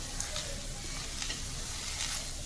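Spring onions fry in a pan with a soft, steady sizzle, and occasional light stirring scrapes sound across the short stretch.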